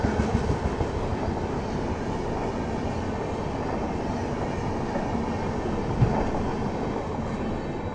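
The Humsafar Express, running between Bengaluru and Agartala, rolls along the rails with a steady rumble and faint clickety-clack of wheels over joints, heard from aboard, a brief louder clunk near the end, no talk.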